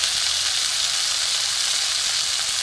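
Spices sizzle steadily in hot oil in a frying pan while cooking prawn bora curry, a loud continuous hiss with no break and no voices.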